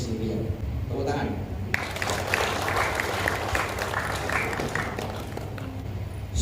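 Audience applause at a Riau provincial ceremony for signing investment MoUs between large companies and small businesses, a steady dense wash of clapping that swells after a brief opening and continues under a voice speaking over it.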